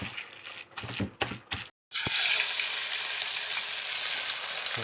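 Banana blossom fish cakes, spooned from a marinated paste, drop into hot oil over medium heat and sizzle with a loud, steady crackle that holds throughout. Brief handling clatter comes just before.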